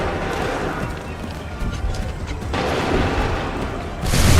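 A musket volley in Assassin's Creed 3 Remastered booms out as a dense, loud wash of firing that builds and swells, with a fresh sharp burst near the end and no clear talking.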